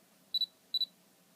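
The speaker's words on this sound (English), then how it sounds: "the camera will beep just like this" Two short high-pitched electronic double beeps from a Canon camera's focus confirmation, in quick succession, close and clear against a faint background hum.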